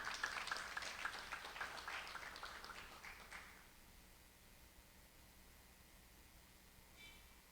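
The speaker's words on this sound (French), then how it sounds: "je vous demande, mesdames, messieurs, d'applaudir chaudement" Crowd applause at a university opening ceremony, a faint, dense patter of clapping for a few seconds that fades into quiet room hum, with a brief light rustle near the end.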